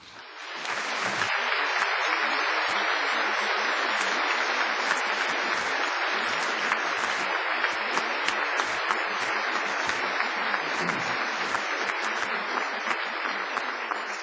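An audience applauds a new university fellow at a ceremony, steady dense clapping that swells in after a second and holds evenly to the end.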